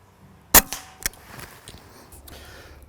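An air rifle fires a single sharp, close shot at a rabbit during evening hunting in the countryside, followed a half second later by a fainter metallic knock, then quiet outdoor ambience.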